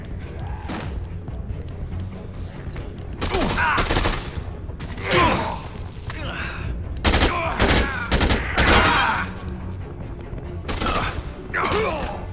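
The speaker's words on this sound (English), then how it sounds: "Can already hear them shooting at some zombies." Gunfire from survivors shooting at zombies at Slot Ranch in the video game Dead Rising 2: repeated bursts of shots and clatter come in clusters over a steady rumbling game backdrop, with no talking.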